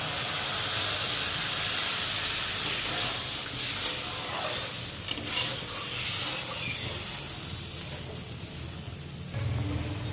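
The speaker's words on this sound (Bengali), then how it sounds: "ঝোলটা ফুটে এসেছে" Fish curry gravy for a chapila fish recipe coming to a boil in a pan, a continuous close hiss and bubbling simmer with a few faint clicks, no talking.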